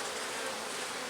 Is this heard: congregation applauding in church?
no